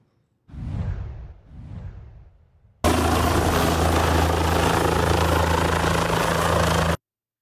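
A helicopter delivering a vaccine shipment in Albany gives a loud, steady rotor and engine drone that begins abruptly after two breathy whooshes and then cuts off sharply.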